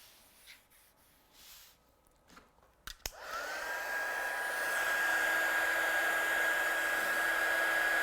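A hair dryer blows on wet paint on a piece of artwork, starting with a click after some soft handling sounds. It then runs at a constant, even whine, close and alone.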